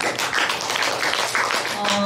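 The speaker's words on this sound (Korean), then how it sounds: "박수 부탁드립니다." Audience at a storytelling contest for visually impaired people claps steadily, a dense patter of applause that continues throughout.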